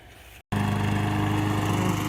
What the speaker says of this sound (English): getting the mowing done